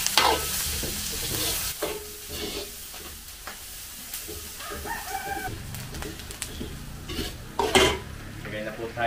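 Garlic and onion sauté in a pan, giving a steady sizzle broken by scraping stirs. A rooster crows faintly in the background.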